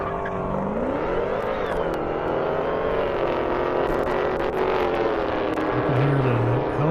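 At a half-mile airport drag race, a Dodge Hellcat's supercharger whine rises and bends in pitch over a steady roaring engine, heard from a distance through constant crowd and track noise.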